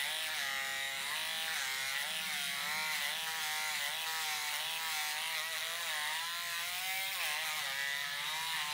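A handheld electric face hair and dead-skin removal device runs nonstop close by, a loud, steady high-pitched buzz with a gently wavering whine after switching into its higher speed.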